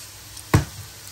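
Food frying in a pan while a Turkish-style dinner is cooked at home, heard as one brief close sizzling burst over a low steady background hum.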